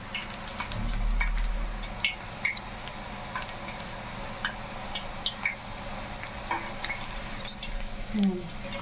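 Food frying in oil in a pan while making a traditional snack, with a low steady sizzle and scattered small pops and ticks, fairly quiet and close.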